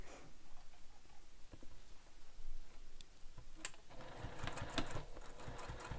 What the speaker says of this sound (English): Now we're going to top stitch this down.